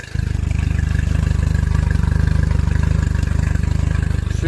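A Selva F60 outboard boat engine runs steadily close by, a loud, even low-pitched throb with a fine pulsing rhythm and no break after a brief start.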